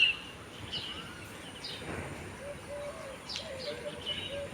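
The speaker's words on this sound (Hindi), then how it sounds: "और कल से चिड़ियों की देखिए चहकने की आवाज़," Faint, scattered bird chirps and soft coos in a quiet village morning around 4:30, distant and sparse against low background hush.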